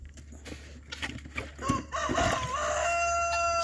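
Farm hens cluck and a rooster crows close by, building from scattered calls into a loud drawn-out crow, with rustling and a low hum underneath.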